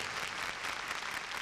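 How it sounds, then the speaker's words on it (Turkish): A congregation at a Christian television program gives a brief burst of steady, even applause, a dense clapping wash with no voices over it. "Ve şimdi hep birlikte İsa Mesih'e koca bir alkış verelim."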